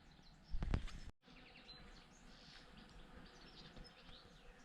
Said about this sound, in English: Hopefully you can hear all these bees.